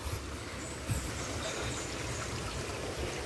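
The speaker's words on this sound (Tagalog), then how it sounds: "So ito yung ilog, dito pa lang nasasala na yung tubig." A clear river in Batangas flowing through a netted swimming area, a steady close rushing and trickling of water with low rumble, continuous and unbroken.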